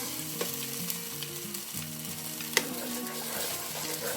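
Masala fries in a pan, a continuous, fairly loud sizzle over a bed of background music, with one sharp clink of a utensil partway through.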